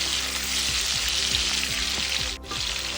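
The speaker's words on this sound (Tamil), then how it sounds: "இதை நம்ம போட்டு எண்ணெயில் போட்டு வறுத்துக்கலாம்." Fish pickle masala for meen urugai fries in oil over medium heat, giving a steady, close sizzle with faint rhythmic stirring scrapes and a brief dip near the end.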